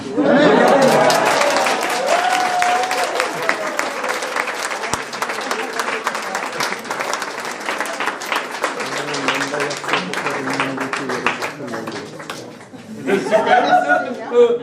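A church congregation at a revival seminar applauds loudly and steadily for several seconds, with scattered voices and light laughter mixed in, then the clapping thins out before a brief swell at the end.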